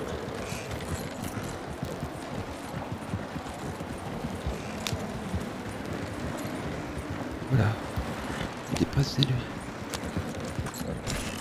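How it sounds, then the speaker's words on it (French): Steady clip-clopping of horse hooves from a video game runs throughout at a trotting rhythm, with a few words spoken over it. "Un cheval."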